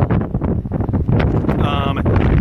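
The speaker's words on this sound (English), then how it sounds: "I'm sure my camera is picking up the wind shear" Loud wind buffeting a camera microphone at an industrial park fire, a constant rumbling roar that dominates the recording from start to finish.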